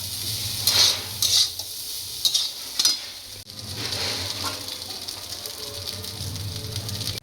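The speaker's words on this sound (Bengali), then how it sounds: "এই ভাত ভাজা হয়ে যাচ্ছে।" Rice being stir-fried and mixed in a pan sizzles steadily, with several sharp spatula scrapes and clinks in the first half before settling into a continuous, close frying hiss.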